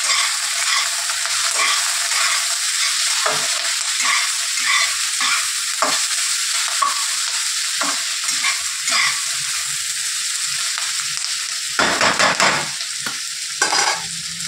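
Onions and green chilies fry in a pan for a Bengali shrimp bharta, a continuous close sizzle with repeated stirring scrapes and a few louder bursts near the end; no one speaks.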